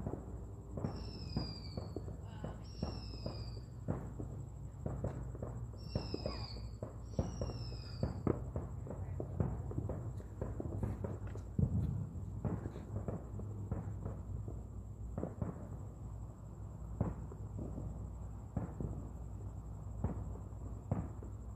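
Repeated sharp cracks and pops of Fourth of July fireworks and firecrackers going off in the distance in the United States, scattered irregularly over a steady outdoor background hum.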